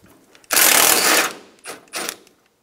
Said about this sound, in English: Remove the top radiator bolts.